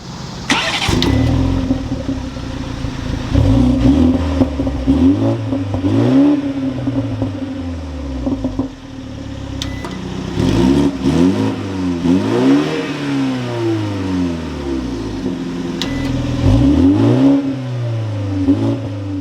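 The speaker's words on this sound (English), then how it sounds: "We can go ahead and fire it up." A 2024 BMW 430i Coupe M-Sport fires up and then gives a series of loud, close throttle blips, each rev rising and falling back to a low idle.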